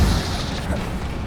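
Incendio fire spell cast in Hogwarts Legacy: a short, deep whooshing burst with a low boom, loud and close, quickly fading.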